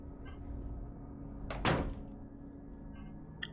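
A door opens in the Silent Hill 3 game with one sharp, close creaking thud over a low humming room ambience, then quiet hum again.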